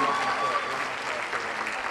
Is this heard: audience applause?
yes